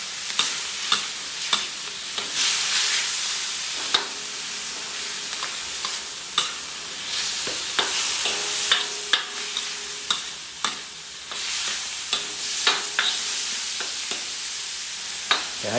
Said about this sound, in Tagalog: hayaan muna natin na medyo maluto-luto itong giniling